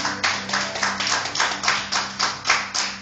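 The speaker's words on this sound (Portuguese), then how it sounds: "Você pode dar uma salva de palmas ao Senhor em nome de Jesus?" A church congregation claps together in a steady, rhythmic beat during a worship service, loud and sustained with regular pulses and no talking.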